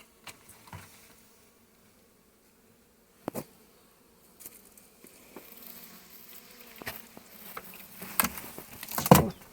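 A honeybee colony buzzes inside a wooden hive during a spring inspection, a newly settled swarm wintering there for its first year; a low, steady hum runs throughout, growing busier and closer toward the end with scattered bumps and knocks.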